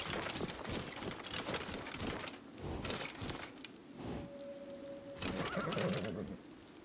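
A horse whinnies in Skyrim with the Lorerim modpack, its neigh mixed into busy game sound and background noise, with a faint clip-clop of hooves nearby.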